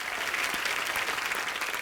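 An audience claps loudly and continuously, a dense burst of applause with no talking.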